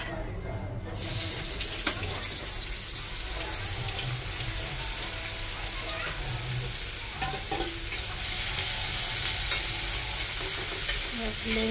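Bitter gourd (ustha) slices hiss and sizzle steadily in hot oil in a wok, a loud continuous frying noise that starts abruptly and carries on throughout, with occasional stirring scrapes.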